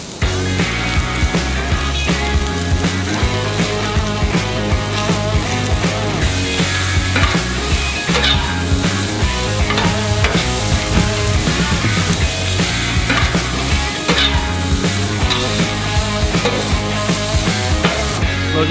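Fat from an A5 wagyu ribeye sizzles loudly and continuously on a Hasty Bake charcoal grill, a dense, crackling hiss with no voices that holds for the whole stretch.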